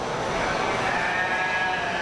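A sheep at a sheep show gives a loud, wavering bleat close by that lasts the whole moment over a busy background of barn noise.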